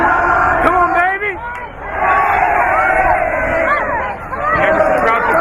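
A crowd of fans at a women's college soccer championship cheers and shouts in a loud, dense roar, with individual whoops and yells rising above the steady babble throughout.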